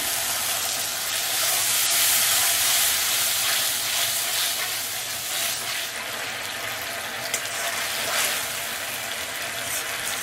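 A loud, continuous steamy hiss and sizzle rises from a pan of parshe fish curry as water hits the hot masala, holding steady for the whole stretch with only a faint clink near the end; no one speaks.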